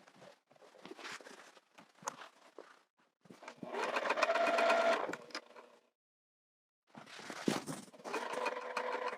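Sewing machine stitching a gathering row on a skirt at a 3.5 stitch length: short bursts of close mechanical whirring, with one longer steady run in the middle and handling noises between bursts.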